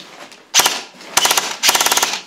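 An airsoft AK-47 fires on full auto in several rapid bursts, loud and close, a rattling stream of sharp cracks with brief pauses between strings of shots.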